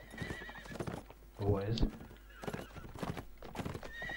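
Horses whinny loudly in a mid-ground burst during a video game, with hoof clip-clops and game sounds. Someone talks casually over most of it.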